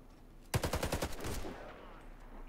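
A burst of automatic gunfire in the PC shooter Warface, about eight rapid, loud shots in under a second, followed by a ringing tail and quiet game ambience.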